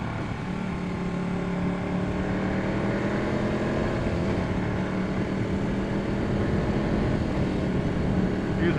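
A Ducati 1199 Panigale engine held at full throttle on a ride, a loud continuous roar with rising pitch through the gears, heard close up with wind rush and faint talking underneath.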